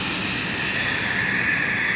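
Steady broadband aircraft engine roar at an air show, a continuous airplane drone mixed with wind noise, constant in level throughout with no speech.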